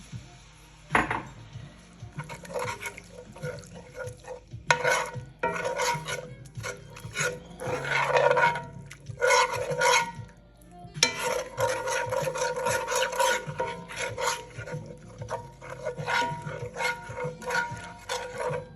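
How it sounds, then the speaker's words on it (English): Beef broth being stirred into a meatloaf mixture in a bowl, close and busy scraping and clinking of a utensil in irregular bursts, with brief pauses between. "we're going to keep stirring that and adding in our beef broth"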